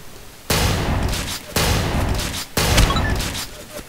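Shotgun fire in the blocky first-person shooter Ace of Spades: three loud, close blasts about a second apart, each trailing into a long noisy tail, with no speech over them.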